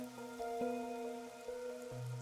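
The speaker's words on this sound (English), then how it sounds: "The rain, it never stops." Rain patters steadily in the game Master Detective Archives: Rain Code, over a faint, sustained ambient tone, soft and continuous.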